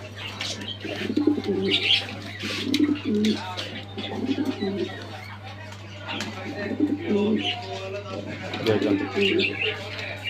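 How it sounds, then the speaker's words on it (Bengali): White King pigeons coo in low, repeated murmurs over a steady hum, while a person talks close by. "এই যে দেখতে পাচ্ছেন একদম হোয়াইট কালারের কিং কবুতর"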